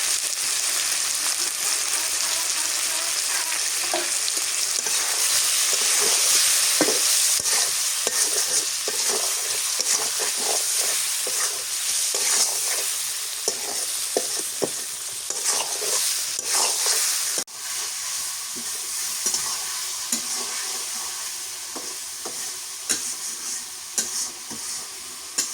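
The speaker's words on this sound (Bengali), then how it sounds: "মাছ কষানো হয়ে গেছে।" Hilsa fish pieces sizzle steadily in hot oil with salt, turmeric and chili powder while a spoon stirs and scrapes the pan in close, repeated strokes for the whole stretch, with no talking.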